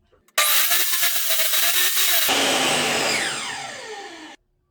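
A power saw starts abruptly and cuts through wood for a coffee filter stand, a loud harsh whine and rasp as the blade bites, then the motor winds down and stops.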